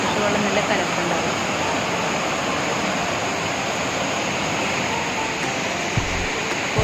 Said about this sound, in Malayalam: ഇപ്പോൾ വെള്ളച്ചാട്ടത്തിൻ്റെ കോഴ്സ് കുറവാണ് കേട്ടോ, കാരണം മഴ ഇല്ലാത്തതുകൊണ്ട് കുറവാണ്.